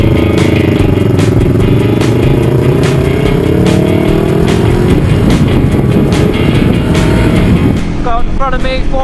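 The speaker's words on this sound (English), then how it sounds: "Directly in front we've got the XJ6, in front of that W800, and the VTR 1000, and then the old Yamaha Diversion." A group of motorcycles, among them a Yamaha XJ6, Kawasaki W800, Honda VTR 1000 and an old Yamaha Diversion, rides together on an Australian country road, with loud continuous engine drone and wind roar close by.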